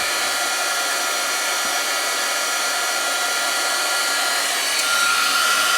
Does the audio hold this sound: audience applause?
no